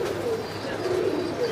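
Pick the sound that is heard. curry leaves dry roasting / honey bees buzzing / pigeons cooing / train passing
pigeons cooing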